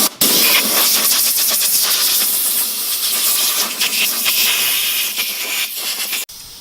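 Brake cleaner sprays in a loud, close, continuous hiss onto dirty wheels, holding steady for several seconds with slight pulsing before cutting off abruptly near the end.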